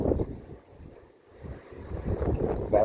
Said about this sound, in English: when you got wind like this and cloud cover, it just feels wonderful